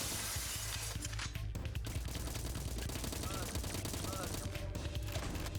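Gunfire from a weapon in a throwback spy first-person shooter, with rapid overlapping shots and crashing impacts in a dense, loud mix of game music and effects that runs the whole way through.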